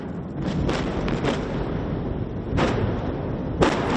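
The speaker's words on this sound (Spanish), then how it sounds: "Esta tarde han realizado una voladura con la que ha abierto el primer túnel de la segunda fase." Explosive blasting to open a road tunnel on a construction site: a sustained loud, rumbling roar fills the whole stretch, with several sharper bursts standing out near the start, in the middle and near the end.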